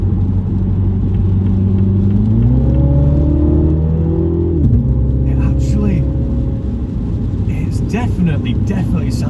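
A Mini Cooper JCW sports car engine revs hard climbing a hill in the rain, a loud close rising drone heard from inside the cabin as the pitch climbs through gear changes, with someone talking over it.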